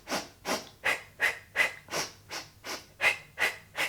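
Steady, rhythmic breaths are taken in an even pattern during a full-body Pilates workout, about ten close, audible puffs in under four seconds, with no talking.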